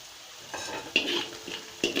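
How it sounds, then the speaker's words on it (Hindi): Cumin seeds and spices frying in oil for daal mash, stirred with a spoon that scrapes and clinks against the pot in a few distinct strokes over a steady sizzle. "इसी तरह से इसको चम्मच हिलाएंगे ताकि ज़ीरा फ्राई हो जाए।"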